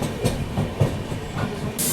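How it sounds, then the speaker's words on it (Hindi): Purushottam Express rolling into Gaya Junction station, with a steady rumble of wagons, soft rhythmic rail clatter and a burst of hiss near the end. "अपनी पुरुषोत्तम एक्सप्रेस यहाँ पे ऑन टाइम पहुँच रही है गया जंक्शन रेलवे स्टेशन पर"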